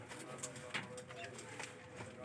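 Pet cockatiels, lovebirds and green-cheeked conures kept in pairs keep up a steady, close, overlapping chatter of chirps and squawky calls with no pause.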